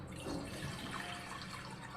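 Water pours into a vessel for papad dough in a home kitchen, a faint, soft splashing trickle lasting about two seconds with no talk.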